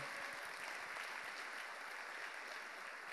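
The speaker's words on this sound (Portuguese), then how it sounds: "Pode aplaudir o Senhor." A church congregation applauds in a dense, steady wash of clapping that holds at an even level for about three seconds, with no voices rising above it.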